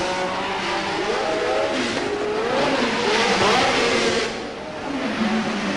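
A 1972 Formula One car at Monaco pulls away after an ignition repair, its high-pitched engine revving up through rising gear changes before briefly dipping and climbing again, loud and close with no voices.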